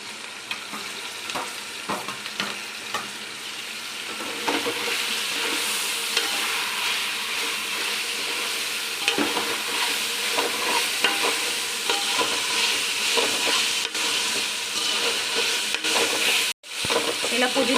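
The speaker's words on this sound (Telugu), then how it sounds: "ఇలా పచ్చి వాసన పోయేంత వరకు ఫ్రై చేసుకోవాలండి. ఇప్పుడు పుదీనా వేసేసుకోవాలి." Mint leaves frying in a pan while khichdi is being made: a steady hiss and sizzle with scraping stirring strokes, fairly close, ending in a brief cut.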